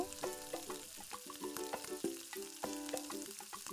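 Chicken rezala frying in a pan, a faint sizzle with repeated scraping and clatter of a spoon stirring the meat, close and fairly quiet.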